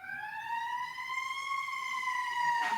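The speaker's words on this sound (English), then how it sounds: "Sorry about the sirens." A siren wails with a smooth rising and falling tone, moderately distant, holding steady across the whole stretch.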